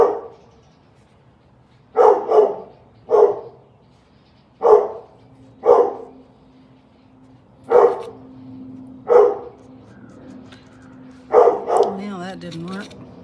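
A dog barks repeatedly indoors, loud and close, in short single and double bursts spaced a second or two apart, with a faint whimper near the end and quieter background noise between barks.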